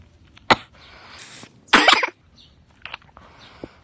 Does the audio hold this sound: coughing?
yes